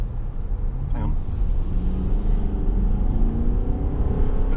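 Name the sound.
Range Rover 4.4 V8 turbo diesel accelerating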